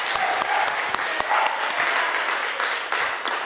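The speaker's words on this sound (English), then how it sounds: "let's give a lovely round of applause to Jennifer for that" A round of applause from a small audience at a sound-money talk, lively scattered clapping with distinct individual claps, moderately close and lasting a few seconds with faint murmurs beneath.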